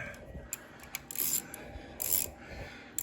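A socket wrench ratcheting on a carburetor bolt during a teardown, with close, crisp clicking strokes and two longer rasping bursts of ratchet pawl noise amid scattered metallic ticks, no voices.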